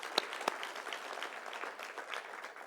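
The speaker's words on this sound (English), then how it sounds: "So let's just give them a round of applause once again." An audience at a convention gives a round of applause, a fairly faint, even patter of clapping with a couple of sharper claps near the start.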